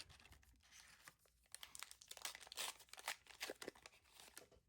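Trading card booster packs for a Star Wars Legends of the Force prerelease being torn open, a run of crisp, crinkly foil rips and crumples up close, coming in quick uneven bursts.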